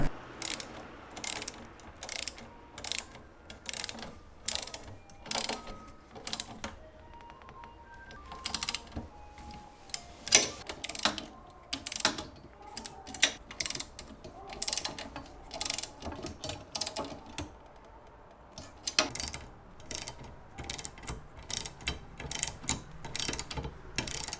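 Ratchet with a 1/4 inch drive socket bolting down a car seat, giving repeated quick clicking strokes in irregular bursts, close by and fairly quiet.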